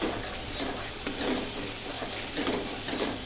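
Ground spice masala with cumin powder and a splash of water being stir-fried in a pan, a dense continuous sizzle with soft stirring scrapes running throughout, close and fairly loud.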